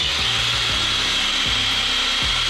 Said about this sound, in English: If I go backwards with it, it's still gonna drill the hole without pulling the wood up.